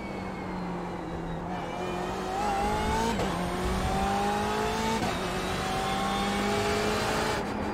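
A BMW M8 GTE race car engine in the iRacing game, on track at COTA: a loud sustained engine note climbing through gears, with quick shift breaks and steady revving.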